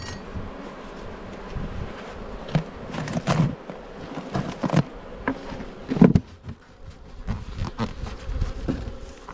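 Honeybees buzz in an opened hive in an Australian apiary, a dense, close swarm hum with individual bees droning past, scattered light taps and knocks from hive frames mixed in.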